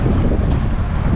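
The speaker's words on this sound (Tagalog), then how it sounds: "Medyo may hangin po ngayon." Wind buffets the microphone outdoors on a breezy day near water, a steady low rumbling roar that fills the whole moment with no voices.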